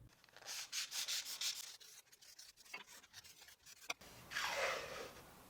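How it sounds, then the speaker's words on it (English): Sandpaper rubbing the joints of a wooden box lid, close rhythmic back-and-forth scratchy strokes, a pause with small knocks, then a longer steady rasping pass. "so I'll sand the joints to fit better."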